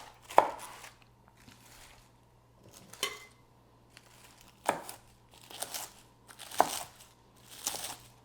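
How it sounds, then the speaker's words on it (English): A knife cuts cabbage into bite-sized pieces on a board, giving a few sharp, separate chops spaced out over several seconds, each with a crisp crunchy edge, close up and fairly quiet. "So I tend to cut it in sort of bite-sized pieces."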